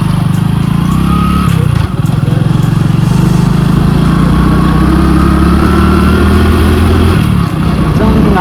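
A motorcycle engine runs steadily and loudly close by on a ride toward Shani Shingnapur village, a constant throbbing drone with slight shifts in pitch as it revs.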